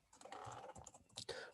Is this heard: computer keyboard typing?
yes